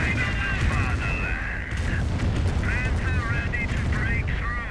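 A rocket artillery barrage in the war video game Company of Heroes 1 makes a dense, continuous roar of explosions and gunfire, with whistling shell tones layered over the din, while a commentator's voice talks throughout.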